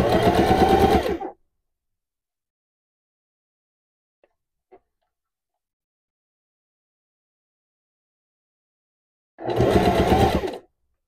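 Sewing machine backstitching a paper bag waist skirt for a Barbie doll: two loud, dense mechanical bursts about a second each, one at the start and one near the end, with near silence and a couple of faint clicks between.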